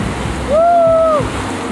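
Ocean surf at Asbury Park beach on the Jersey Shore makes a constant loud wash of noise, with a brief whistle-like tone rising and falling in the middle.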